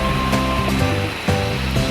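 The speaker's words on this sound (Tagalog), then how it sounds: "Dito nagmumula yung tubig ng Tanawan Falls." Water rushes loudly and continuously from the source of Tanawan Falls, a dense close-up roar of flowing water.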